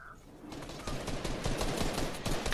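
Gunfire from a Fortnite match, with players shooting downward: rapid bursts of shots crackle fairly quietly and continuously, building slightly toward the end.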